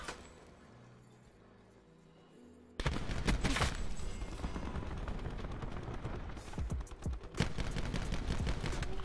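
Rapid gunfire from the Auger DMR in Call of Duty Black Ops 4, loud bursts of shots and booming impacts following a quieter stretch, continuing densely throughout.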